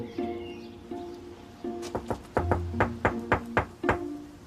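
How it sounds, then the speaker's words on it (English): Knocking on a tent in a park, a series of sharp taps that grows into a quicker run of about eight raps over a faint low background hum. "so how do you knock on a tent?"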